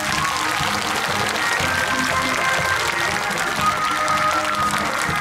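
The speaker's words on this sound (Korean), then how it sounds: "일렬로 쭉 쓰셔서 다시 한번 큰 박수 좀 부탁드리겠습니다." A large audience claps steadily and loudly throughout a Korean Buddhist military chaplains' commemorative ceremony, marking the 50th anniversary of military chaplaincy, with a faint murmur of crowd beneath.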